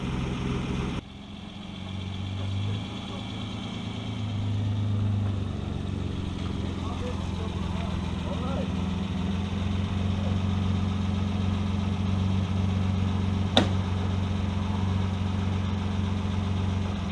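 A one-owner 1962 Austin Healey 3000 Mk2 BT7 cranks and catches about a second in, then settles into a steady, throaty idle that runs close and loud to the end, with a single sharp click late on.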